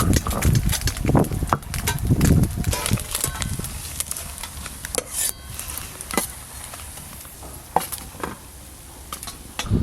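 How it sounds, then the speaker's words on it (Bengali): Small mourala fish frying in oil in a pan, a crackling sizzle with clinks and scrapes of utensils against the pan, close and fairly busy throughout. "এই মাছগুলো কম কম করে না ভাজলে একসঙ্গে সব দিয়ে দিলে ভেঙে যাবে, তাই কম কম করেই ভাজা করব।"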